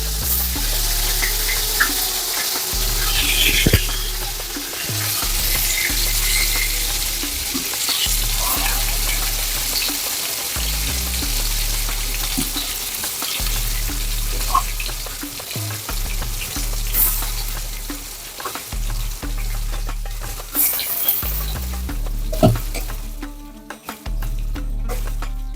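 Spice masala sizzling and frying in hot oil, a continuous bright crackle with occasional stirring scrapes and low thumps, steady and close throughout with no talk.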